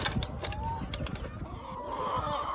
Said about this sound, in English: All the chickens are good.